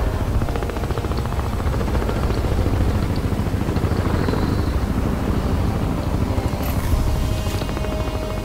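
Helicopter in the video game Crysis 2: a steady, loud rotor and engine drone with dense low-frequency chopping that fills the whole stretch, with some brief higher game effects near the end.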